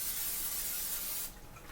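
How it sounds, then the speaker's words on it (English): A close, steady hiss of an aerosol non-stick cooking spray onto a griddle for just over a second, then it cuts off to quieter background noise. "I'm going to spray a little bit of this non-stick spray on my griddle or grill."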